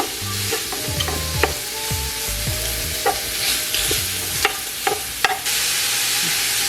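Vegetables for a low-carb cauliflower lasagna sizzle steadily in a hot pan while a utensil stirs them, with scraping strokes and light knocks over a continuous close frying hiss.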